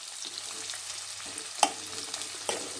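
A medium-sized onion fries in a pan for a prawn curry, giving a steady close sizzle with occasional sharp clicks of stirring against the pan.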